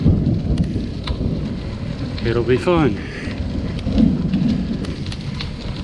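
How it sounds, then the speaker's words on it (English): A thunderstorm in a canyon along the Great Allegheny Passage: steady heavy rain with a deep rolling rumble of thunder, loud and close, while a person briefly speaks over the storm. "That thunder is pretty damn loud in this canyon."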